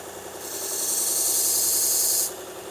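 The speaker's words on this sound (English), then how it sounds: "I'm just doing light passes back and forth with 120 grit." A silver-plated knife is rubbed back and forth against 120 grit abrasive in light passes, making a steady close rasping scrape that swells and then stops.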